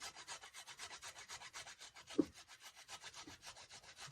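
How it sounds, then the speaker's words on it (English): Fresh ginger root grated by hand straight into a pan, a steady run of rhythmic rasping strokes, close and fairly quiet, with no talking. "I'm just going to shred that right into the pan."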